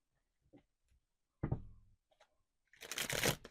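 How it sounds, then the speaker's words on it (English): Tarot cards are handled with a few soft taps, then a thudding bridge, then a loud close riffle shuffle that fills the last second. "Let's give that one more good shuffle."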